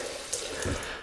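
A brief, steady rush of tap water runs to wet a shaving brush, close and continuous for about a second with a slight splashing flutter.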